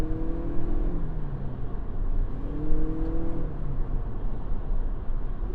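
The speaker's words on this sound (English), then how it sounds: "So the acceleration, it's not inspiring by any means." A 2026 Toyota Prius Plug-In Nightshade accelerates from inside the cabin, its steady motor whir rising in pitch in two smooth sweeps under a constant road roar.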